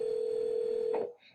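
A telephone line for an automated job-offer call gives a steady single-pitch tone that cuts off, followed by a brief faint electronic blip and near silence.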